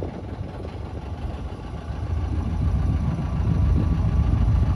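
A Japanese fishing boat, 8.2 m by 1.95 m, idles with a steady low engine rumble and vibration that grows slightly louder and denser toward the end, with no voices over it.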